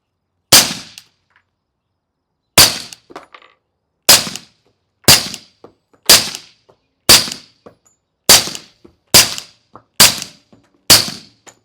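Suppressed FNX-45 Tactical .45 ACP handgun fitted with a full-size rifle-length suppressor, firing nine sharp, loud cracks at a slow, uneven pace, each dying away quickly into silence.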